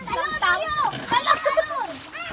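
A child jumps into water and makes a splash, nearly buried under loud, excited children's shouting and chatter.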